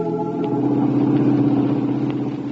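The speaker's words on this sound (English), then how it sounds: "That's his car right ahead of us, Vance." A car engine runs as an old-time radio detective drama sound effect: a steady, close, mid-low motor drone that holds evenly throughout with no voices over it.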